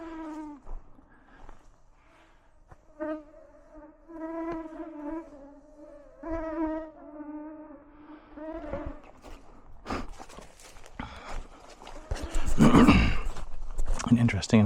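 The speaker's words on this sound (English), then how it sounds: "If you stop, mosquitoes just devour you." Mosquitoes whine around a solo hammock camper in the New Brunswick woods, a thin high buzz rising and fading near the ears, with someone talking and rustling noise toward the end.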